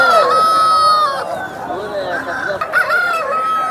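A year-old rooster crows at a rooster market, a loud close drawn-out call with strong harmonics, followed by more crowing and clucking from nearby birds.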